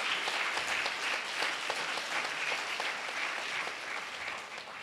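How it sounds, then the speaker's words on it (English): A crowd at a neighborhood poster contest award ceremony applauds in a steady, dense wash of clapping that holds evenly for several seconds at moderate volume before easing slightly. "I think we deserve a big round of applause"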